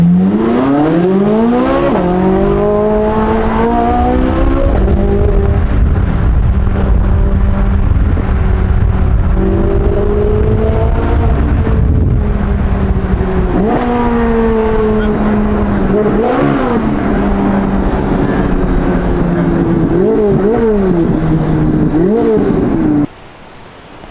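Chevrolet Corvette C8 Z06 engine drones loud and steady while cruising, its harmonics rising and falling through gear changes and throttle blips, with a few brief revs near the end before it cuts off.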